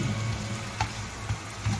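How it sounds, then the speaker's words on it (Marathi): Carrots frying in oil in a pan for a garlic paneer cutlet dish, a steady close sizzle with a few soft stirring taps. "तेल आहे त्याच्यातच गाजर पण फ्राय करून घेऊया।"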